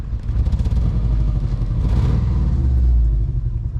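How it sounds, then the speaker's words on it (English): A Subaru boxer engine idles roughly with a misfire, a loud, close, uneven low rumble with irregular lumpy pulses and clatter, running on continuously with no talking. "it definitely sounds like your standard Subaru Boxer motor, but there's something that's not right here"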